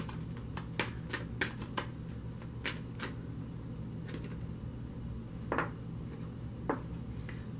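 A tarot deck is handled and shuffled to draw one card: sparse, quiet slaps and riffles of cards come in uneven bursts over a soft room hum.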